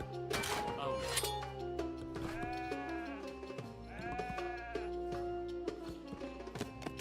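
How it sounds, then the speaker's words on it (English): A goat bleats in a quavering, wavering cry, repeated a couple of times amid other layered tonal sounds and clinks, fairly close and moderately loud. "Oh, it's the goat!"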